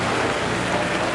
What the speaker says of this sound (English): Morning rain continued to beat down steadily as Kennedy's coffin was brought back out for the flight to Washington.